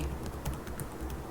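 Typing on a computer keyboard, a quick run of close, light key clicks at a steady uneven rhythm with no talk.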